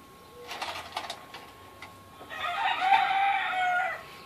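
A gamecock of the Adames line crows once, loud and fairly close, after a few scattered clucks and faint rustling in the yard; no one speaks.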